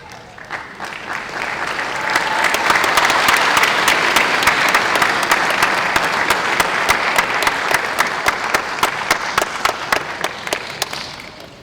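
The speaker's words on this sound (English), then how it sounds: "please join me in applauding these fine young men and women." Sustained audience applause at a university hooding ceremony, a dense wash of many hands clapping that swells after a couple of seconds, holds steady and begins to taper near the end, with no voices over it.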